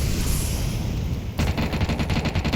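Counter-Strike match play with a flashbang bursting and a rapid volley of gunfire, a dense blast of noise followed by crisp repeated shots in quick succession, loud and close.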